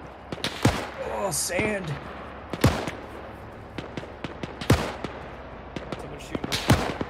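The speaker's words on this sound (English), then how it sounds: "Someone shooting." Gunfire in the Arma 3 video game cracks out as sharp single shots at irregular intervals, some near and loud, others distant, while players talk over the radio.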